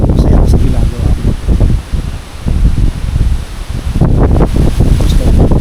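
Strong wind gusts across a riverside campsite, rushing and rustling through leaves in surging waves that swell and ease, loud and close to the microphone.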